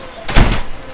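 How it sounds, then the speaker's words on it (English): A single heavy bang against a door, a short loud thud with a brief rattling tail, close by in a house where children are fighting. "Banging on the door."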